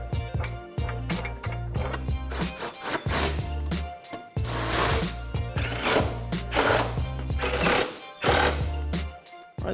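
A power tool tightens the subframe bolts on a Ford Mustang GT350 during a lowering spring install, loud close bursts of rattling, buzzing impact whirring in short repeated runs with brief pauses between them.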